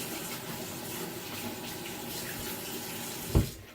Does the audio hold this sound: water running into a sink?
yes